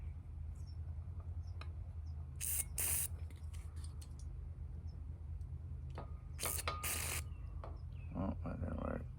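Short hissing spray bursts from the jets of a 1970s Mercury 20 hp two-stroke outboard carburetor during cleaning, several quick bursts over a low steady hum, close and fairly quiet.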